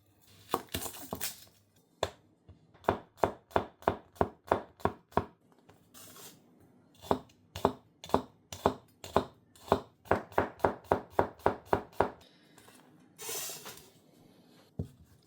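A Kanefusa honyaki 240mm gyuto knife slicing an onion on a cutting board, crisp rhythmic taps in quick runs with short pauses between, close and clear, with a few rustling scrapes as pieces are moved.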